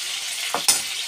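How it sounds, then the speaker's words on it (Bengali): Fish frying in a hot pan in a home kitchen, a steady close sizzle with a couple of brief stirring or turning sounds, and no talking. "মাছগুলোর জন্য তাড়াতাড়ি করে আমি আগে ভেজে নিচ্ছি মাছগুলোকে।"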